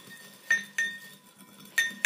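Metal spoon clinking against a glass or ceramic bowl while stirring a dip of fermented fish sauce with MSG and sugar, in sharp separate strikes: two close together, then two more a second later.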